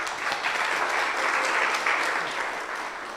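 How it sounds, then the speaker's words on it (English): Steady applause from the audience for a presenter at a 3MT research competition, a dense wash of clapping at moderate loudness that holds evenly, then eases slightly at the end. "Let's please give Monica a round of applause"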